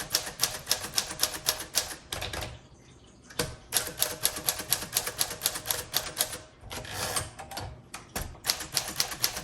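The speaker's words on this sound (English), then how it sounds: "let's keep typing" A 1948 Smith Corona Sterling manual typewriter in great condition is typed on close up in rapid bursts of sharp keystrikes, with two short pauses and occasional heavier carriage thumps, and no voices.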